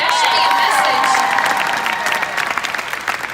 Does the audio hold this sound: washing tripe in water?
no